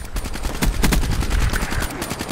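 Assault rifle gunfire in Black Ops 3: rapid, loud bursts of automatic shots in a fast, even rhythm, with a brief pause near the end and no talking.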